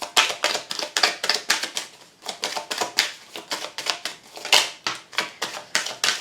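Tarot cards being drawn and laid out for a cross spread, giving a fast, steady run of crisp card snaps and taps that come close together, near and fairly loud, with no voice.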